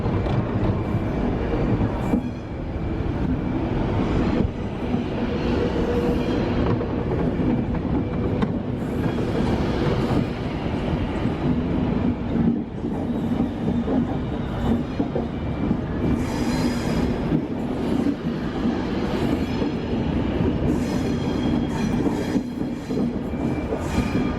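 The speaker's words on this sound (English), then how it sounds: "Pendolino coming round the curve." A Pendolino train bound for Edinburgh departs and rounds a curve, a loud, sustained rumble of wheels with squealing and rhythmic clatter running the whole time.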